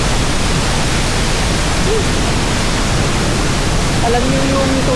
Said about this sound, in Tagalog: May kalakasan ng bagsak ng tubig maging ang agos ng Tapia Falls.